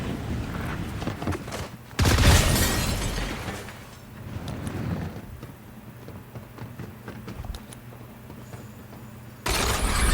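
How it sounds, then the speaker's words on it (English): Loud blasts and crashing bursts from a shockwave in Fortnite, with a big boom at the start and another near the end, rumbling debris in between. "here comes the shockwave"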